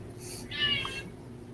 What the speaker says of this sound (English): Yep, kitty cat.